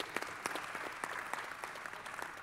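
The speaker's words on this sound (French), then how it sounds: "Est-ce qu'on peut l'applaudir, s'il vous plaît?" Conference audience at a business-and-unions panel discussion applauds, a fairly quiet, even patter of clapping with a few sharper individual claps, no talking over it.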